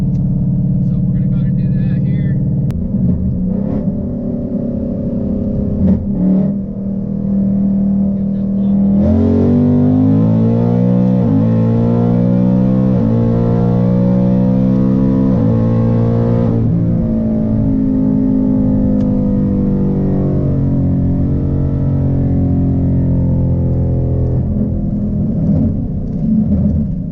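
A 2019 Ford Mustang on a highway makes a loud, sustained power pull, its engine drone rising steadily in pitch through long acceleration with a brief gear change, then settling into a steady cruising rumble.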